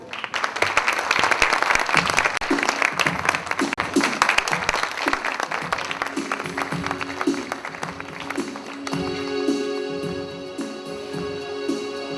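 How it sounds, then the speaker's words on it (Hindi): A school audience applauds loudly to welcome students with dense, full clapping that gradually thins out, giving way to sustained musical tones as the performance begins. "कृपया तालियों के साथ उनका स्वागत करें।"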